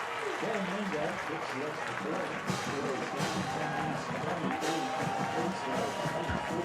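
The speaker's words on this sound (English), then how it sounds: "And listen to that Cougar crowd." A home football crowd for the Coatesville Cougars roars steadily after a successful extra point, a dense wash of cheering and clapping with a few louder swells, while a commentator's voice runs on top.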